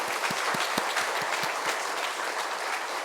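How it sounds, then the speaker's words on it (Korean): Church congregation applauding during a Sunday worship service to bless an engaged couple, a steady dense round of clapping, moderately loud and continuous with no voices on top. "우리 큰 박수로 함께 축복하겠습니다"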